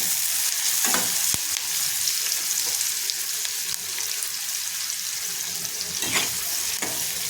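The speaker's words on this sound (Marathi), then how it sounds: "बारीक चेचून घेतलेला लसूण एक कांदा आणि कढीपत्ता ते छान आपल्याला परतून घ्यायचे" Crushed garlic, onion and curry leaves sautéing in a pan, a loud continuous sizzle with scraping stirs and a few sharp clatters of the spoon against the pan.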